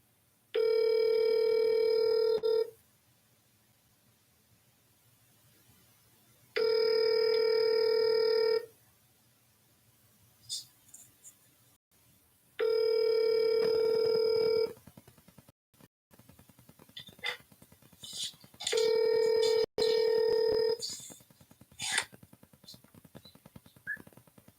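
Telephone ringback tones during outbound cold calls to Ohio property owners, four long steady ringing bursts spaced by pauses, with faint background noise and a brief voice between rings.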